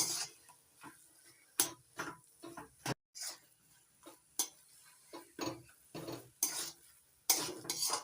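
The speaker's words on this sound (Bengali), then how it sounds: "আদা থেতো করে নিয়ে ভালো করে মিশিয়ে নিলাম শাকের সঙ্গে।" Crushed ginger being stirred into cooking greens, likely mustard-pea greens with a rui fish head, heard as a close, irregular series of sharp spoon-on-pot clicks and scrapes, with no talking.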